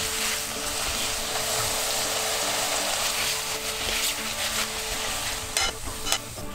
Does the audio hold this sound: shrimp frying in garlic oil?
yes